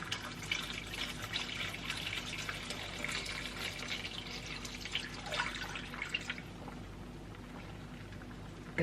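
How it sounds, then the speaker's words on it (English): A litre of malt vinegar is poured over onions being pickled, making a soft, continuous liquid trickle and splash that stays quiet and steady throughout, with no talking. "Now I'm putting in the vinegar."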